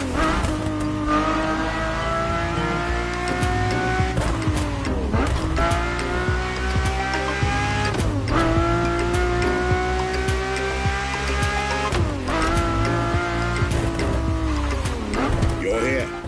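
Ferrari F40 and F50 supercars race in The Crew Motorfest video game, engines revving high and droning continuously, with repeated gear shifts every few seconds and squealing tyres under music.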